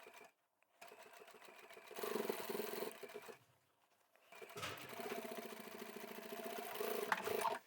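Close sewing machine stitching a boxy bag seam in bursts, starting and stopping with short pauses between runs and backstitching, the motor whirring steadily during each run.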